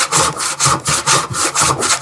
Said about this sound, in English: saw is binding a little bit